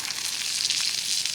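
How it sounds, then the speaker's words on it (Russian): Schnitzel frying in a pan over a Finnish candle log fire in the taiga, a steady hissing sizzle with faint crackle, close and continuous with no talk. "И вот мы жарим шницель."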